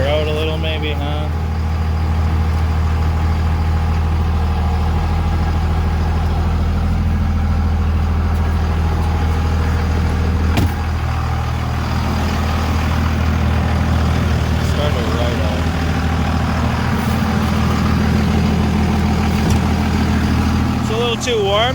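A Cummins diesel engine idles steadily after a cold start, a low, even rumble that continues throughout with a slight shift in tone partway, while people talk quietly over it now and then.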